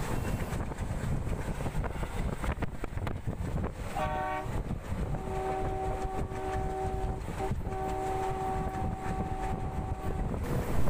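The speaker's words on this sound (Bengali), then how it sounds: "দেখুন ট্রেনটি কীভাবে যাচ্ছে" A passenger train running at high speed between Sapatgram and Kamakhya: loud continuous rumble and wind roar throughout, with a horn sounding in long tones partway through, heard from on board.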